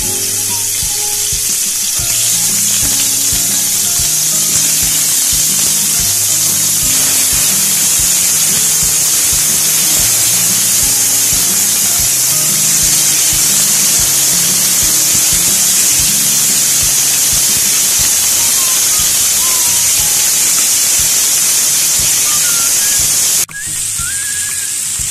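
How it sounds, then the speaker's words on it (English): Fish frying in hot oil in a home kitchen for fish curry, a loud continuous sizzle and hiss that holds steady throughout, with no talking. "because I fry the fish"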